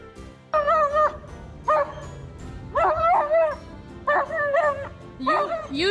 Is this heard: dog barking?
yes